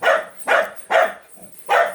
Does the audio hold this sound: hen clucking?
no